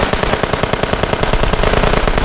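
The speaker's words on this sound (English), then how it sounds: "The hedgerow to our front opened up on us with withering AK fire." AK rifles firing from a hedgerow in a narrated ambush, heard as loud, dense, rapid automatic bursts that crackle continuously without pause.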